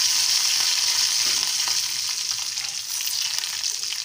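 Curry leaves crackle and sizzle in hot oil for a peanut chutney tempering, a steady loud hiss with brief spits and the occasional stir, close and without voices.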